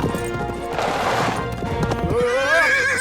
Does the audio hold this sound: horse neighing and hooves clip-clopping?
yes